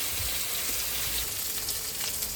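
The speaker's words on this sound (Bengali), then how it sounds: "আমার ভাজাটা হয়ে গেছে। এইভাবে আপনারা ভেজে নেবেন।" Spiced chicken sizzling in a hot pan, a close, even frying hiss that runs unbroken with no talk over it.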